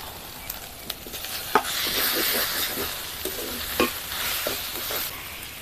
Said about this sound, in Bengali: এবার দিয়ে দিয়েছি এঁচড় আর আলু